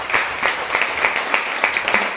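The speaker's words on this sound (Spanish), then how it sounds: "Un aplauso fuerte a nuestro Dios." A church congregation claps loudly and steadily, a dense, close burst of applause lasting the whole moment.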